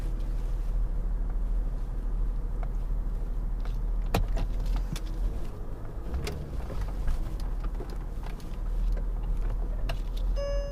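A Mercedes-Benz S-Class sedan pulls away for a short drive, its low steady engine and road hum continuous and close, with a few small clicks and rattles inside the cabin.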